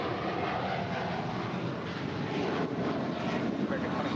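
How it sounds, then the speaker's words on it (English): American Airlines Airbus A321 departing LAX, a broad, steady roar of jet engines mixed with wind buffeting, constant and fairly loud throughout. "That is American 1713 departing to Orlando. It's an A321."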